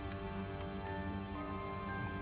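Hail keeps falling as a dense, even patter with no gaps, steady and moderately loud, and no voices are heard.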